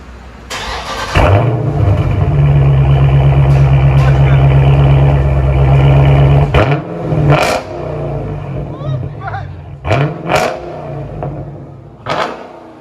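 A big 6.4L HEMI V8 in a Dodge Challenger Shaker edition rumbles loudly through a loud exhaust, revs hard in a sustained roar, then drops back with several sharp throttle blips close by.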